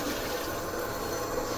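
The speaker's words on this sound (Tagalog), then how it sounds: "lagyan natin ng 3 mangkok. 3 mangkok na tubig." Water poured from a bowl into a large kettle for boiling tangerine peel, a continuous, moderately quiet splashing flow with no speech.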